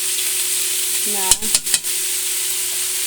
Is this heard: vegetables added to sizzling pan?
yes